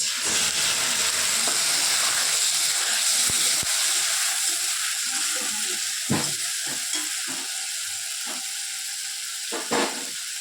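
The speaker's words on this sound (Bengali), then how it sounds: "মশলা দিয়েছি বন্ধুরা, এদিকে একটু কষিয়ে নিই মশলাটা" Ginger, chili and onion spice paste sizzles steadily in hot oil, with scattered clinks and scrapes of a spatula stirring the pan throughout.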